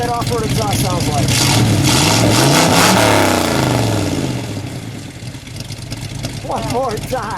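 A 1959 Chevrolet Corvette convertible with a four-speed and an off-road exhaust revs hard, its loud rumbling note rising and falling as the throttle is worked, then settles to a lumpy idle before a shorter blip.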